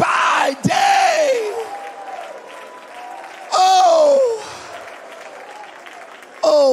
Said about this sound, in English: Clap your hands one more time.